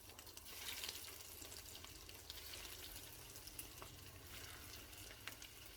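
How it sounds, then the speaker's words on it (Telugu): Chicken nuggets deep-frying in hot oil, a dense steady sizzle and crackle heard close and fairly quiet, with scattered pops and no talk. "ఈ నగెట్స్ ఇందులో వేసుకొని వేయించుకుందామండి."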